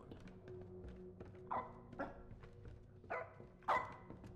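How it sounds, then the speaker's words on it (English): A dog barking in a horror video game, four short separate barks spaced over a few seconds above a low steady ambient hum, with no talk. "Let me go see what the dog is doing."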